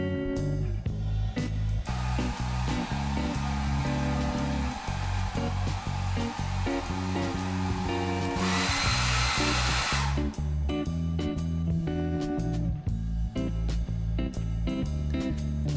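A hair dryer blows on a washed Game Boy Color shell: a loud, steady rushing hiss lasting about two seconds over soft background music.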